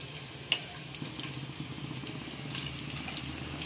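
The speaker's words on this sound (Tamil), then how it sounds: "பூண்டு பொரியட்டும்." Garlic sizzles steadily in hot oil, a constant bright hiss with a few sharp pops and small clinks scattered through it.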